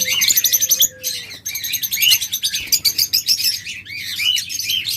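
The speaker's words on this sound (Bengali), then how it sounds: "এছাড়া অসংখ্য লাভবার্ড রয়েছে" Many lovebirds chirp and tweet in rapid, overlapping high bursts, loud and close, as at a bird seller's stall, with no voices.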